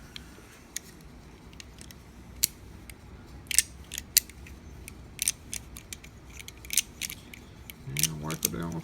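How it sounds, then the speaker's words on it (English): Barrel key worked in and out of an oiled antique desk lock, giving scattered small metallic clicks and scrapes, close and fairly quiet, with a brief rattle near the end. "work the key in and out."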